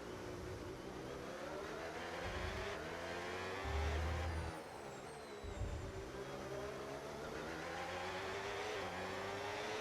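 A race car engine in the F1 25 video game revs and shifts continuously, its pitch rising and falling through gear changes, with a deep low drop and recovery midway, fairly quiet and without talk.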